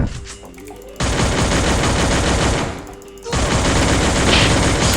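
Bursts of automatic gunfire from the Free Fire battle royale game crackle loud and close, two long rapid volleys separated by a short lull.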